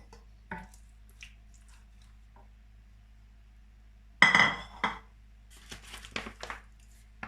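Soft wet squishes and light clinks as prunes drop into a metal saucepan for homemade jam, a few quiet bumps first, then a louder cluster of plops and taps.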